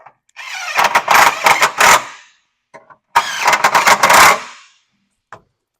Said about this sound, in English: then I'm going to tighten down these 2 screws